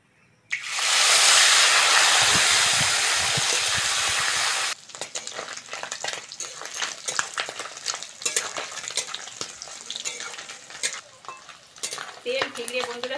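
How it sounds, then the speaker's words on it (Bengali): Small mourala fish deep-fry in hot oil with a loud, close hiss and crackle for about four seconds, then the sizzle drops to a busier, uneven spatter with stirring and utensil clinks. "আবারও একইভাবে এরকম মাছগুলো ভেজে নেব।"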